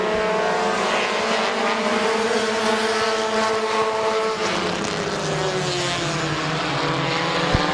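Race cars roar around the oval at Midvale Speedway, a dense, continuous engine drone with pitch rising and falling as the cars pass, loud and steady throughout with no voices.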